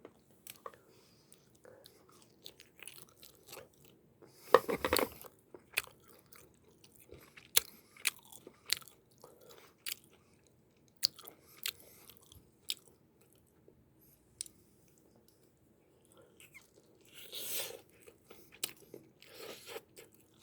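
Bibigo dumplings dipped in vinegar are eaten close to the mic, with soft chewing, moist bites and occasional crunchy chomps spread over quiet pauses.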